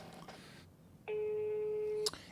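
A telephone call tone from a mobile in a comedy sketch, a single long steady beep that starts after a short stretch of voices and room noise and ends abruptly, clear and close.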